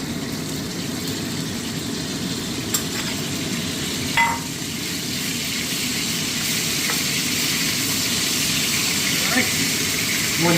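Batch of chuck roast browning in bacon drippings for competition chili outdoors, a dense continuous sizzle with a low engine-like rumble underneath and occasional clinks.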